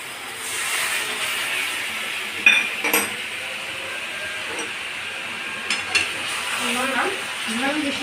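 A splash of water added to potatoes and spices frying in a pan gives a continuous moderate sizzle, with a few clinks of a utensil against the pot and faint background voices.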